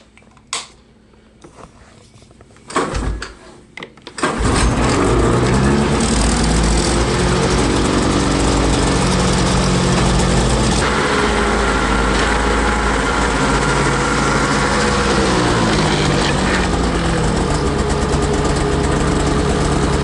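A 2016 ZR6000RR snowmobile engine starts after a few brief clatters and settles into a loud, steady high-revving drone with shifting harmonic tones, running continuously close by.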